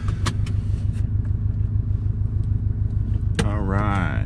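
A Subaru STI idles with a low, steady engine and exhaust rumble heard from inside the car, with a few clicks and a voice speaking briefly near the end.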